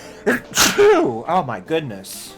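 A person sneezes once, quickly, and then an excited spoken exclamation follows right after it, close and fairly loud.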